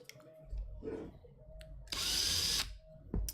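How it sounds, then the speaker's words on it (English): A power drill driving a paint shaker attachment whirs in a loud burst lasting under a second, with brief mechanical clunks and handling noise before and after. "It's a lovely little contraption here that just chucks into my drill."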